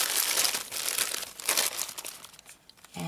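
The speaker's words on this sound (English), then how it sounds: "The first step to making the butterflies is to take a plastic bag" A plastic bag crinkles and rustles in bursts as a piece of fabric is handled for a beaded butterfly craft, close and moderately loud with no talking.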